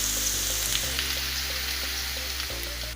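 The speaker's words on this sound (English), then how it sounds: "Add some more to help the rest of the potatoes brown and cook." Potatoes brown in a skillet, giving a bright continuous sizzle with small crackles, close and steady over a low hum that shifts pitch twice, with no voices.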